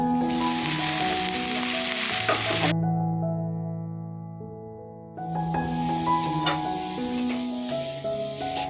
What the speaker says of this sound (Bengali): আমি এদিকে বসিয়ে দিয়েছি আলু বেগুন দিয়ে ভাজা করব